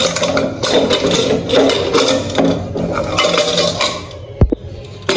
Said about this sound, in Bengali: এই হচ্ছে প্রেশার কুকারে মাংস রান্না করেছি, এখন হচ্ছে খুলবো